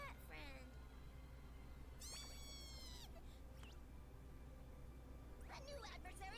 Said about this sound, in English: Oh, hey, it's your cat friend.